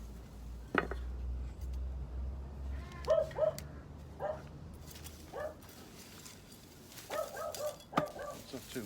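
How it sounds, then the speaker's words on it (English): A dog barks in short, scattered bursts at a garden allotment plot, fairly distant and moderate in level. A low rumble is heard at first and a sharp knock sounds early, with no talk over the barking. "Sorry about the dog barking, but there's someone coming in the gate."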